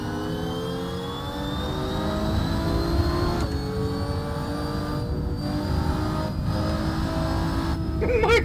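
In the Assetto Corsa racing game, car and go-kart engines rev and whine steadily, pitch slowly climbing as they accelerate, with a brief flutter near the end.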